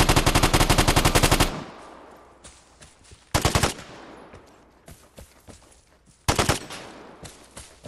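Rapid automatic gunfire from the video game Botlander rattles in three loud bursts, with sharp single shots and fading echoes scattered between them.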